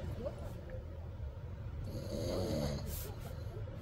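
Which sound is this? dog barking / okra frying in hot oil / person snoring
person snoring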